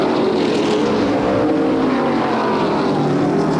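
Ontario Outlaw Super Late Model race cars thunder around Flamboro Speedway in a loud, continuous engine drone that holds steady throughout, the pack roaring past close by with no voices heard.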